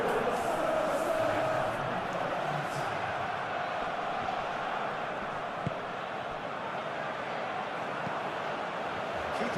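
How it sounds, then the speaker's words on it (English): Crowd noise from a stadium in the football video game PES 2021, a steady wash of disgruntled fans, loud and continuous over the whole stretch, with a commentator's voice faintly mixed in. "Well, the crowd aren't happy."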